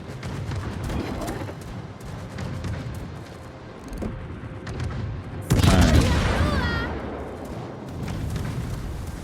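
Warship guns fire in a naval battle game, with deep booms and scattered blasts and a big loud salvo past the midpoint followed by rumbling and whistling effects.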